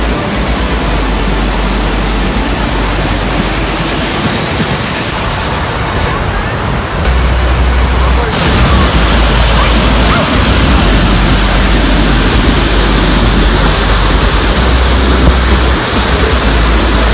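Waterfall along the Lower Falls Trail in Yellowstone, a loud, steady rushing roar of falling water that fills the whole stretch without a break.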